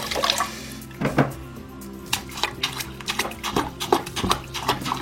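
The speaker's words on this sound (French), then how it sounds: "On va rincer la première masse de filtration" A filter sponge from an Eheim Classic 250 pump is rinsed and squeezed in water, giving close splashes, drips and wet squelches in uneven bursts with short pauses between them.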